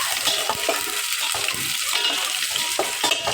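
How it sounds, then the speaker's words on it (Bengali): Spices fry in hot oil on a gas stove, a continuous bright sizzle with occasional stirring scrapes. It is close and loud, with no voices. "গ্যাসের একটু মশলাটা দিয়ে ভাজা ভাজা করে নেব।"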